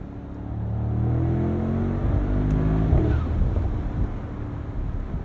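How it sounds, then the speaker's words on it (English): A 2023 Mercedes-AMG SL 63 engine rises to a loud rev from inside the cabin, then falls into a rumbling, crackling overrun as the throttle is released, close and without talk. "I love the manual mode simply for that noise, the sound of the overrun."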